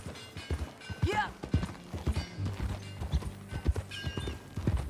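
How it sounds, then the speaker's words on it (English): Horse hooves clip-clop at a walking pace in a Western setting, close and fairly loud, with a whinny partway through and some faint talking in the background. "That a new horse?"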